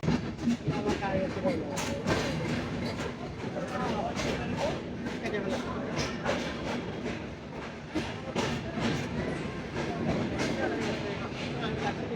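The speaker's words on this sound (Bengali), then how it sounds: "পদ্মা এক্সপ্রেস ট্রেন তার চতুর্থ যাত্রাবিরতি স্টেশন পাবনা জেলার চাটমোহর রেল স্টেশনে প্রবেশ করলো" Padma Express train rolls into Chatmohar railway station in Pabna, with steady rumble, clattering wheels and intermittent clicks over rail joints, while a person talks over it throughout.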